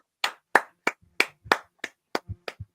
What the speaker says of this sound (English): I was doing a courtesy clap for Hunter because he went 3 for 3.